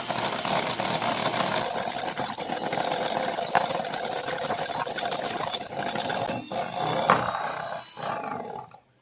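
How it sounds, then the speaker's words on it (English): Double cream is over-whisked into butter, giving a loud, continuous motor roar with a rough churning texture that dips briefly near the end before cutting out. "we're going to start to whisk. We're going to need to over whisk"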